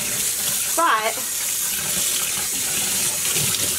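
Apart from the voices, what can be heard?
tap water running while rinsing dyed yarn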